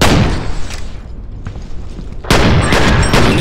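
Pistol gunfire in the shooter game F.E.A.R., loud dense bursts of shots and impacts, a brief lull mid-way, then a heavy burst of rapid firing again, with no talk.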